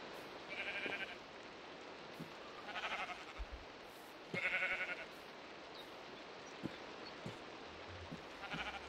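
Sheep in a video game bleat in a quiet scene, three or four separate nasal calls spaced a couple of seconds apart, with faint ticks and light rain-like patter in between.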